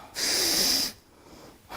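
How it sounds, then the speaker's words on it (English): A person blows their nose during a cranial fascial release session, one sharp, forceful nasal blast lasting under a second, then a pause and the start of another puff. "Can you blow your nose?"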